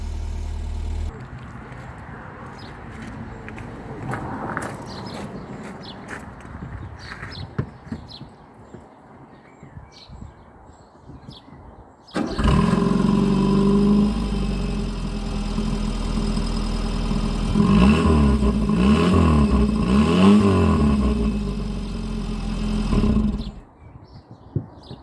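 A 1991 Opel Corsa engine idling with the choke partly pulled out, a low steady idle that turns noticeably louder and rougher midway, with an uneven throbbing pulse before it cuts off abruptly.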